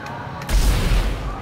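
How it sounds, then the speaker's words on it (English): A single heavy gunshot-like boom from a sci-fi survival horror shooter, loud and close, followed by a rumbling low-end tail that fades over about a second. "I wonder if I can shoot these things from here."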